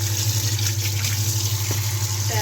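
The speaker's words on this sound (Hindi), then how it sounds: "इस पे अब ठंडा पानी ऐड करना है।" Cold tap water pours steadily onto freshly boiled spaghetti noodles, a constant close splashing rush with a low hum underneath, lasting the whole short stretch without speech.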